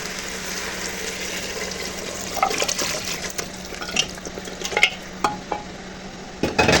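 A spoon stirs a pot of food during home cooking, with a soft liquid swish under scattered sharp clinks and scrapes against the pot, closely miked and without talk.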